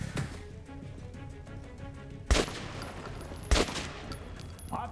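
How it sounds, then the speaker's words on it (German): Gunfire in the shooter Metro 2033 Redux: two sharp, loud shots stand out over a low game ambience with faint background clatter and no talking. "Hab ihn unter Beschuss."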